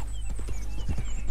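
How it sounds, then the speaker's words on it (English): A blue roan Nakota horse in Red Dead Redemption 2 walks with steady clip-clop hoofbeats, close and clear over a low rumbling background, with no voices. "This horse is the blue roan Nakota horse."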